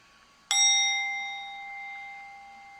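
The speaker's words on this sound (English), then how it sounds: "And as we ring the bell, we will begin." One struck meditation bell rings out with a sharp clear strike and a long, pure, shimmering tone that decays slowly, alone in a quiet room.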